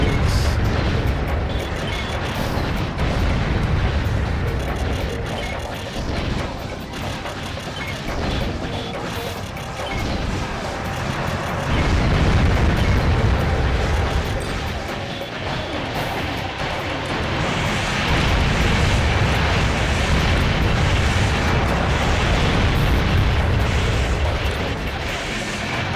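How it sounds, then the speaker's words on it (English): Missile explosions rumble through a mecha battle in the video game Armored Core 2, heavy booms and crashes rolling almost continuously over a dense, loud game soundscape. "Start using some of my missiles."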